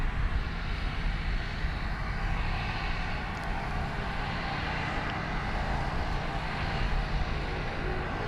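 A Rex Airlines aircraft at Sydney Airport, a steady loud broadband engine roar heard from outside, continuous throughout with no talking.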